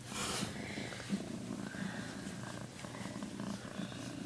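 Three-day-old kittens piled together purr softly and steadily, a low continuous rumble with faint rhythmic pulses, close and quiet, with no talking.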